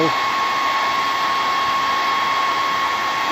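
A heat gun roars steadily and loudly up close while preheating the block of a 1972 Evinrude 25 HP outboard motor, an unbroken whooshing blower sound with a faint whine.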